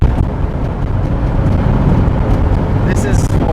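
A 1984 Volkswagen van with a 2.2-liter Subaru engine swap shifting up while driving, engine drone dipping and settling under heavy road and wind rumble, recorded from inside the cabin.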